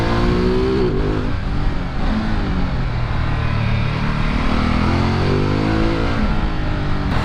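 A Ducati Multistrada V4 motorcycle engine revs and accelerates loudly and close, its pitch rising and falling through gear changes.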